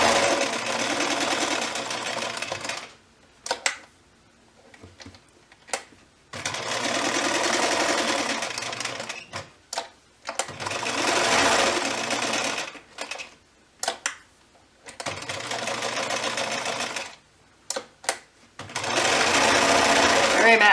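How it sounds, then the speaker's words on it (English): A sewing machine stitches through felt in several bursts of rapid, buzzing whirring, separated by pauses with faint handling sounds, heard close and on its own. "The great thing about sewing with felt is it's very forgiving."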